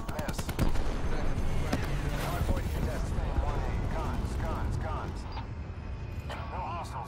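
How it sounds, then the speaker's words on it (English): Rapid gunfire and headshot hits ring out in Call of Duty Black Ops 4 on the Madagascar map, dense bursts of shots over game effects with talk running underneath. "I like the sound of those headshots."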